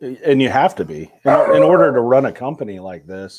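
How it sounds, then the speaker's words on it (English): A 40-pound dog barks and yips a few times close by, its calls mixed in with a person talking steadily over it. "And excuse my dog."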